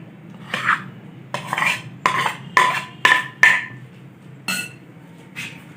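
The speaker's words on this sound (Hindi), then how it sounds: "सबसे पहले बॉयल किए हुए आलू डालेंगे।" Boiled potatoes added to a bowl for chana chaat, a series of about eight sharp clinks and knocks of utensil against bowl, spaced irregularly and close, with no talk.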